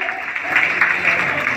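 An audience at a math gathering welcoming a guest breaks into steady, dense applause, close and sustained for a brief moment.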